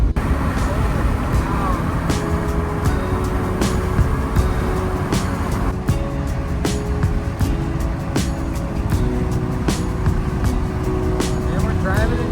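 A car drives along an Arizona road on a trip toward Silver City: a loud, continuous tire-and-engine road roar with a steady hum, broken by small ticks and bumps.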